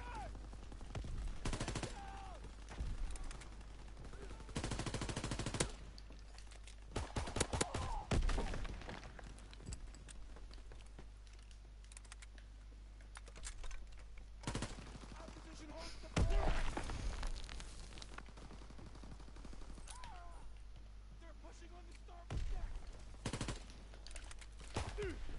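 Gunfire in a WWII video game, bursts of shots and rattling automatic fire scattered through the clip, fairly quiet, with a voice talking at times in between.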